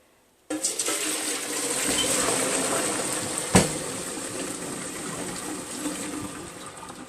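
Water suddenly gushes and pours steadily into a sink for several seconds as spaghetti pasta water is strained, with a sharp metallic clank partway through; no one speaks.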